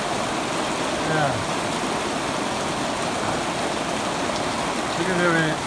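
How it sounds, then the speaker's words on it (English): Steady rain falling outdoors near a newly installed double culvert crossing, a dense constant hiss of drops blended with running water, with faint voices briefly heard under it. "Look at the rain. Look at the water."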